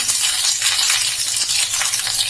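Green chilies frying in hot oil in a home kitchen, a loud, steady hiss and crackle of sizzling with no voices.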